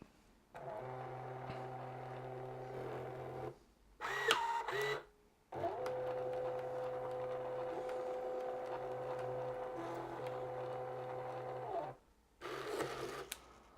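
An Epson inkjet printer runs through a print job: steady mechanical whirring and humming in long stretches, broken by short pauses and brief higher-pitched carriage and feed sounds, close and moderately loud with no talking.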